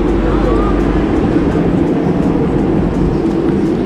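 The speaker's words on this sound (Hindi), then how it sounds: "और ये वाली ट्रेन है।" Train at a railway station in Prague, a loud, steady low rumble with continuous broadband noise across the whole stretch and no clear speech.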